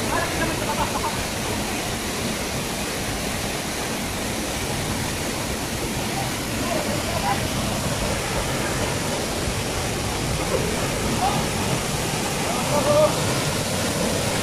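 Steady, loud roar of Kapantagan Falls at Busay, a waterfall pouring continuously and close by, filling the whole clip as a broad unbroken rush with no pauses.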